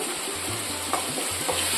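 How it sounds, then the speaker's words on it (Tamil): Tomatoes and salt sizzle steadily in a hot pan for okra masala while a spoon scrapes and stirs in short, repeated strokes, close and fairly loud. "இப்போ நம்ம சேர்த்துக்கிட்ட உப்பையும் தக்காளியும் நல்லா வதக்கிக்குவோம்"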